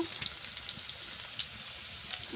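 Chopped onion and bay leaf fry in oil in a pan with a soft, steady crackle and small scattered pops, a faint low sizzle with no one speaking.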